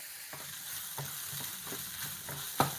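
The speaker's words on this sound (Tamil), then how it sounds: "இந்த வெங்காயம் எல்லாமே நல்லா வதங்கிச்சு" Onions sautéing in a pan while being cooked for a masala, with a steady low sizzle under repeated soft scraping strokes of a stirring spoon and one sharper clack near the end; no one speaks.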